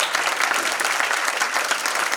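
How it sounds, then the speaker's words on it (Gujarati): Loud, sustained applause from an audience at a gathering in Lodha Park, Lower Parel, a dense steady wash of clapping hands with no pauses, close and full. "એકવાર જોરદાર તાળીઓ આપો"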